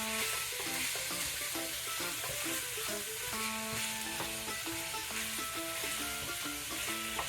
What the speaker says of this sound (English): I'm going to keep browning this up, keep breaking it down